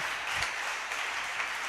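A church congregation at a live revival service applauds Jesus Christ, a steady, fairly loud wash of many hands clapping that carries on evenly without any talk.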